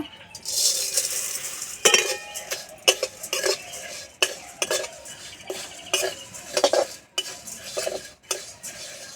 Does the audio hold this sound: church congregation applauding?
no